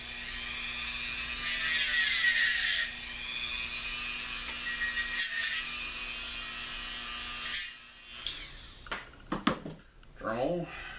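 A Dremel rotary tool buzzes in a high whine for about a second and a half while cutting plastic model railway track ties, then falls quiet, followed by faint handling clicks and brief talk near the end.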